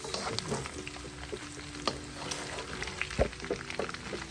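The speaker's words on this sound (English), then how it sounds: "So right now still continue to turn it and make all the oil from this pork to come out." Pork pieces fry in rendered oil in a wok, a steady close crackling sizzle punctuated by scraping stirs and occasional sharp clinks of the utensil against the pan.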